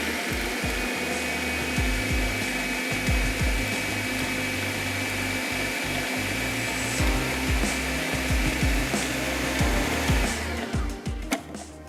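A kitchen grinder churns cooked dal and meat into shami kebab mix, a loud, steady, whirring grind running close up for nearly the whole stretch before winding down at the very end.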